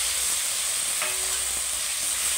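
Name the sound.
vegetables frying in spiced oil for hilsa-style fish curry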